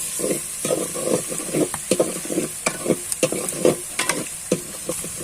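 Onions fry in a pan with a bright, steady sizzle broken by quick stirring scrapes and clacks in an uneven rhythm, close and fairly loud, with no voices.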